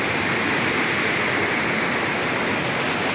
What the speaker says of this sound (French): il y a la cascade qui coule là